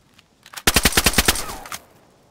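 In DayZ Standalone 1.0, a loud, close burst of about eight rapid gunshots cracks out in quick succession, ending in a short fading tail.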